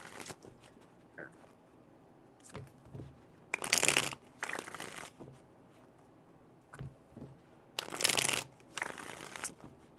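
Tarot cards shuffled in three bursts, two longer riffling flurries with softer taps and snaps between, close and fairly quiet.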